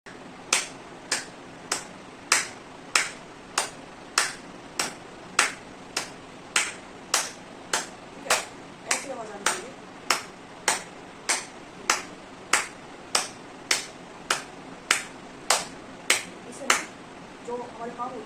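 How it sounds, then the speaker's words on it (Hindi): Steady, evenly spaced claps from a person doing a wide-fingered hand-clapping exercise, about thirty sharp slaps at a brisk regular pace, close and clear with a brief pause near the middle. "चौड़ी उंगलियों से हमने तालियां बजानी हैं और तालियों की आवाज़ भी आनी चाहिए"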